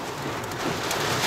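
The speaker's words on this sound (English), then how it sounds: "hail." Hail and heavy rain pelt down during a severe thunderstorm with strong winds northwest of Charters Towers, a dense, steady broadband patter that swells slightly louder partway through, with no talk over it.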